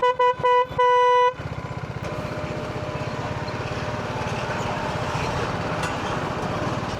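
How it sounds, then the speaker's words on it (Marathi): Vehicles stand jammed on the Sangameshwar bridge on the Konkan–Mumbai route as horns blare in several sharp bursts at the start. Then a steady close engine drone and traffic rumble carry on without a break. "संगमेश्वरच्या पुलावरचं ट्रॅफिक लागलेलं आहे"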